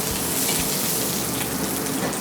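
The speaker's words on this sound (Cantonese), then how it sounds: "青椒， 爆香佢。" Green peppers stir-fried in a hot wok during Cantonese home cooking of Sichuan-style boiled fish, giving a loud, steady, close hiss and crackle of sizzling oil with no voices.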